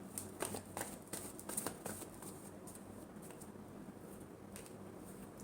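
Tarot cards being shuffled by hand, a run of brisk papery riffles and flicks close up, busiest early on and then settling into softer continuous rustling.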